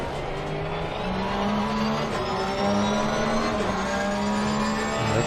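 Porsche race car in an Xbox racing game at Circuit of the Americas, its engine droning steadily with rising and shifting harmonic tones as it accelerates through gears, continuous and fairly loud with no voices.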